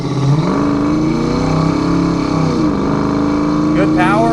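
A 1989 Ford Mustang GT with a 5.0-liter V8 and automatic transmission revs up under acceleration, a loud, close engine drone rising in pitch, dipping at a shift, then climbing again.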